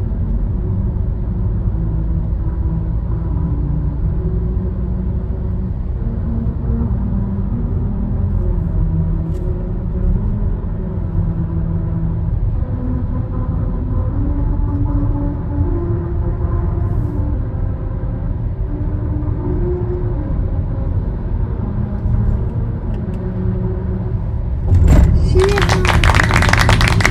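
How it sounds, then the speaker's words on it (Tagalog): Car tires roll over the grooved surface of a Melody Road in Japan, producing a steady, humming tune over loud road rumble. A sharp knock is heard near the end. "Dapat nasa 50 lang siya para very clear yung tunog ng Melody Road"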